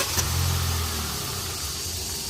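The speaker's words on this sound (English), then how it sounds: "let's start this car and see how the engine sounds." A 2020 Hyundai i20 1.2-litre petrol engine running steadily at idle, a low even hum with a faint whirring belt, quiet and close, no voices.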